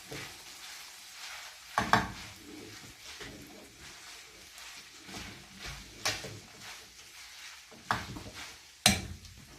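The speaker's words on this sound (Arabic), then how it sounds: "رح نحطه فوق اللحمة، نقلبه تقليبة يعني بسيطة" Pine nuts are stirred into cooked meat in a pan: a soft background sizzle broken by a few sharp scraping clinks of a utensil against the pan, close and fairly quiet, with no talking.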